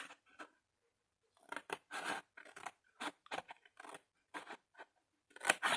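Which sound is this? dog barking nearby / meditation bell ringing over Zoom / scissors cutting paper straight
scissors cutting paper straight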